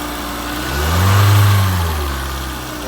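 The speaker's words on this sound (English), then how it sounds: "and then we'll give it a few revs" A car engine on a workshop test is revved once from idle, the note rising smoothly to a loud peak and falling back to a steady idle, close and alone.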